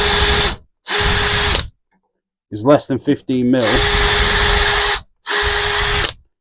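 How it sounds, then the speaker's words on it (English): A power drill bores dowel holes through a Milescraft Jointmaster jig clamped to a workbench, running in four loud, even bursts separated by short silences, with someone speaking briefly between them. "Drill some holes."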